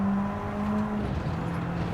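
A race car engine pulls hard out of a corner in a racing game, a steady loud drone whose pitch holds and then drops slightly toward a gear change, with no talk over it.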